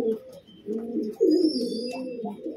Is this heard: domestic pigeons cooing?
yes